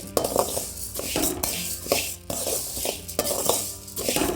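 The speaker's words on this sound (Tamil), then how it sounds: "அரிசி போட்டு வறுத்துக்கலாம். நல்லா சிம்மில் வச்சு" Black kavuni rice dry-roasts in a kadai as a spoon sweeps it around, rhythmic grainy rattling and scraping strokes against the metal, close and loud with brief pauses between strokes.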